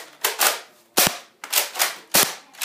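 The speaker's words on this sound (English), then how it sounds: "I'm gonna fire a few" A painted Nerf gun fires darts in about four sharp pops, each preceded by a rising mechanical whir, spaced roughly half a second apart at close range.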